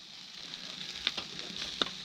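Chicken sizzles on a grill, a steady close frying hiss with a few small pops and crackles, no voices.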